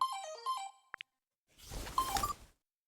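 Electronic phone ringtone in the video game Another Code: Recollection, a short melodic tone sequence followed by two sharp chimes, then a burst of noisy in-game activity with bright beeps.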